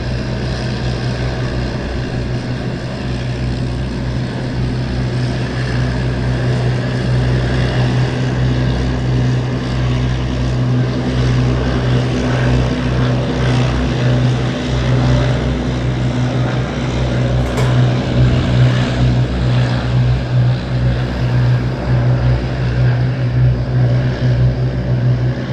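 Two Hawker Hurricane propeller fighters taxiing toward the runway at Southend Airport, giving a steady, continuous piston-engine drone with a low throbbing hum that holds at a fairly even level throughout, with no talk.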